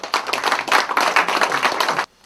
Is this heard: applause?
yes